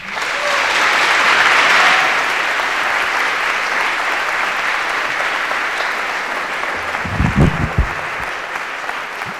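Audience applause greeting Dr. Temple Grandin at a talk on living with autism, a loud sustained wash from a large crowd that slowly fades, with a few low thumps near the end.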